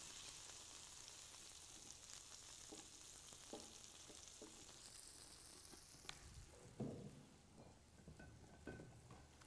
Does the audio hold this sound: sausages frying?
yes